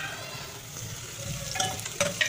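Softened onions frying in a pan, a low, even sizzle that gives way to a few sharper clinks and scrapes of a spoon stirring near the end.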